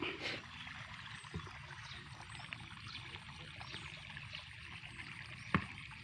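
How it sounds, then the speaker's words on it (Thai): Water let in and flowing during the rainy season in Ubon, a steady faint rush and trickle heard from a distance, with a couple of brief knocks and no voices. "เปิดน้ำแล้วครับไหลละ"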